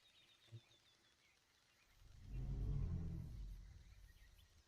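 A low, rumbling growl from a Diplodocus in the video game Dinosaur Simulator swells up and fades over a couple of seconds, with a faint earlier thump and no talking.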